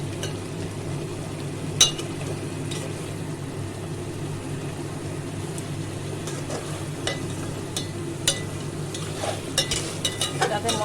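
Pre-fried catla fish pieces go into sizzling spiced masala for a coconut catla curry; steady close frying hiss with occasional clinks and scrapes of utensils, a brief thump near the start, no talk.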